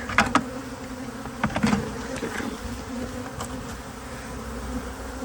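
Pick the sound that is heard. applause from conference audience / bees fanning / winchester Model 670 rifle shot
bees fanning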